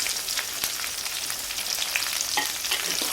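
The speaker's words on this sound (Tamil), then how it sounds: "இப்போ பாருங்கள் ஆனியன் நல்லா வதங்கி வந்துருச்சு" Onions sizzling and being stirred in a hot pan while cooking chicken melakai kari, a steady close crackle of frying with scraping stir strokes and no talk.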